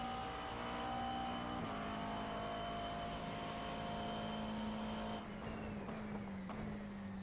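Race car in the iRacing simulator, a steady engine drone with high harmonic whine that shifts pitch as the car lifts and brakes late on a straight, with no talking over it.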